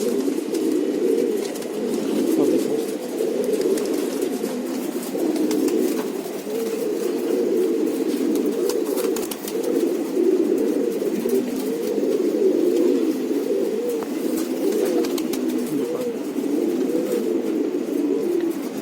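Steady, continuous cooing of Khatang pigeons, soft low throaty calls repeating throughout, close by with no talking.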